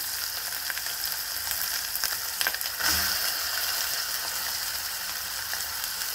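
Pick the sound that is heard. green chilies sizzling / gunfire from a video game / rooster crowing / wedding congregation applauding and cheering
green chilies sizzling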